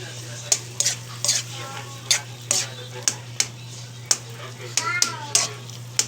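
Garlic and onion being sautéed in a pan, with a spatula stirring and clinking in repeated scrapes over a low sizzle and a steady background hum.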